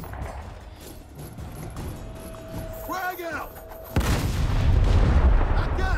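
A bomb going off in a first-person shooter game: a sudden loud boom that gives way to sustained, broad rumbling, with chirpy game effects just before it and talk over the game.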